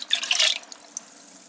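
Lemon juice, 400 millilitres of it, pours into a batch of apple wine made from organic Nova Scotia apples, giving a brief splashing trickle that peaks early and fades into faint drips, close and alone.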